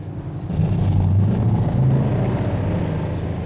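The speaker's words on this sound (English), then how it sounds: "How would she not hear the car approaching?" A car approaches in a movie scene, with a steady low engine rumble that swells slightly and holds, with no voices.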